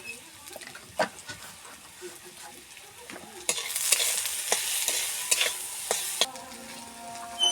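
Beetroot frying in a pan with turmeric and chilli powder, a steady sizzle with scraping stirs that grows louder and denser midway as the spices hit the oil, close and with no talk.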